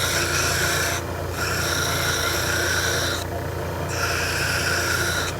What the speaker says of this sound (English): a piece of 80 grit sandpaper on a piece of wood